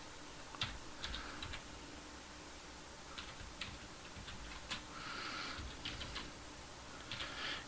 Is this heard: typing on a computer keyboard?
yes